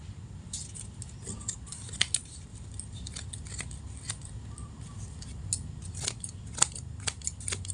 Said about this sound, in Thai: อันไหนที่เลยไปหน่อยเราก็ตัดออกค่ะ